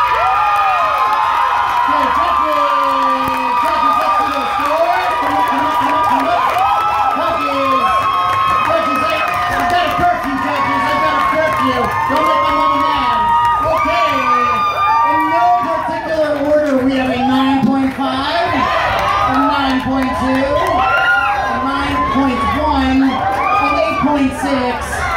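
A large festival audience cheers, whoops and applauds continuously for slam poets at a team poetry slam finals, a dense crowd roar with shouts rising above it throughout.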